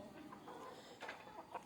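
Native country chickens cluck softly in the morning at a coop, a few faint, scattered calls over a quiet background.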